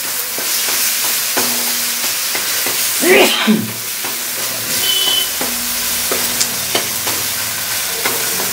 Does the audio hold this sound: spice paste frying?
yes